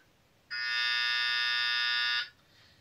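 Game show buzzer on The Price Is Right, a single loud, harsh, steady buzz lasting under two seconds that cuts off abruptly over faint studio background.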